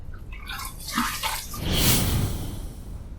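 Tap water runs and splashes close by while a face is rinsed after a shave, with a rushing wash that swells in the middle and then settles, and no talk.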